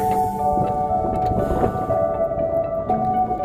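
Cold wind blows steadily across a mountain ridge on a hiking trail, a continuous close rush and buffet with no talking.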